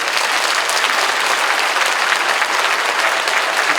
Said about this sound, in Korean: 그렇게 하신다면 박수해 주십시오.